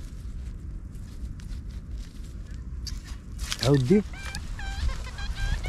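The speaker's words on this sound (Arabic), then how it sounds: "كيكون دجاج" Chickens cluck amid a metal-detecting gold hunt, one loud squawking call rising briefly over steady background noise, with someone talking nearby before and after.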